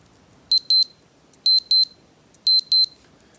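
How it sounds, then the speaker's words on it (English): A Casio ABC-30 digital watch alarm chirps in repeated pairs of sharp, high-pitched beeps, three double bursts at a steady rhythm, close and clear. "Just your usual Casio alarm."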